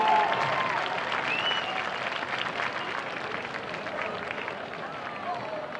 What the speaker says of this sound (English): Please give a round of applause for our Eagle Cheer seniors.